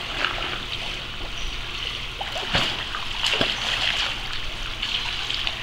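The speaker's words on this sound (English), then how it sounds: "Let me see you swim, Amanda." A child swimming in a pool splashes steadily, giving a continuous close wash of water with a few sharper slaps and no clear talk.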